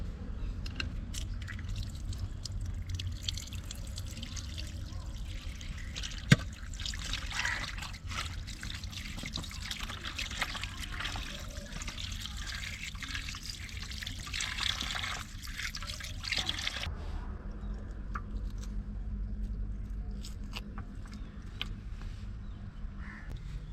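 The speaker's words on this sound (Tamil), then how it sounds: "மீன் வாஷ் பண்ணிக்கலாம்" Raw fish is washed in water for a roadside-style fish fry, with continuous trickling and splashing water. Crows caw in the background and the sound grows quieter toward the end.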